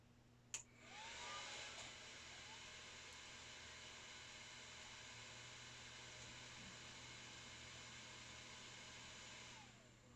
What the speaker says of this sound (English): I hear the hard drive spinning up, and it certainly was very loud